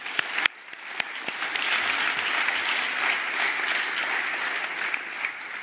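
An audience at an entrepreneurship summit final breaks into applause, a few sharp early claps swelling into steady, full clapping from a large room.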